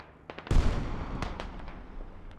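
A hell cannon firing in the Squad video game, a single heavy boom landing loud and close with a long rumbling tail, followed by fainter distant thuds.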